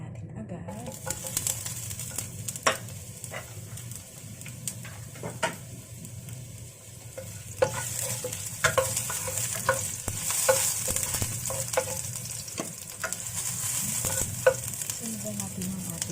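Garlic sizzling in oil in a pan, later joined by asparagus, mushroom and kikiam, with repeated scraping stirs and clinks of a utensil against the pan as the frying hiss grows louder and fuller midway.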